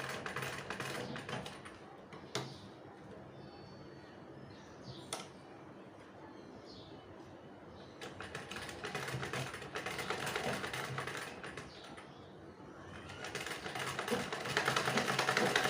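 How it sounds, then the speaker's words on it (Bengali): An old sewing machine stitches along a marked line, its rapid mechanical rattle running steadily and moderately loud with brief pauses and a louder stretch near the end. "এবার ওই দাগ বরাবরই আমি কিন্তু সেলাইটা করে রাখবো"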